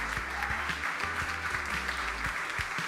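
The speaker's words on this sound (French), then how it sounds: "je pense qu'on peut applaudir la troupe du quai" An audience applauds a theatre troupe after a farce performance at Le Quai theatre in Angers, with a steady, dense clapping that holds evenly for the whole stretch, moderately distant in a hall.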